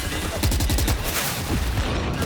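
Dense gunfire from a Valorant grand final match between 100 Thieves and NRG rattles in quick repeated shots, loud and continuous, with faint casting voices underneath.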